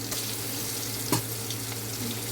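Eggs fry in a pan with a steady close sizzle under a constant low hum, with one sharper pop or scrape midway.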